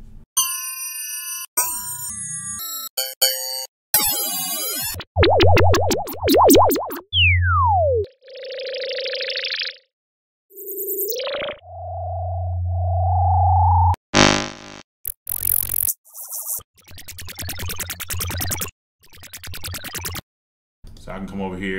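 A randomized funk lead patch on the Logic Pro X FM synth jumps through a series of short, varied electronic tones: warbling pitch sweeps, chirps, steady sine-like hums and buzzy bursts, with brief gaps between them.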